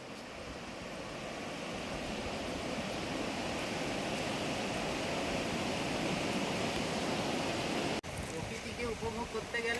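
A rain-swollen river at Deulghata rushes in a steady, loud broadband roar that holds for most of the stretch and then briefly dips, with faint voices beneath it.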